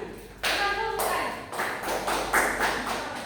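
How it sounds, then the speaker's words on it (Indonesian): Short round of classroom applause for a student named Hasmi, a cluster of claps rising after a moment and tapering off as a voice speaks over it. "Dari aplaus dulu buat saudara Hasmi"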